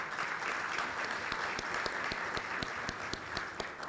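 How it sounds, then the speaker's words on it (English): A small audience at a cybersecurity conference claps steadily for a few seconds, a soft, even patter of hands with individual claps standing out, no voices over it. "So a round of applause for Anne for her new position."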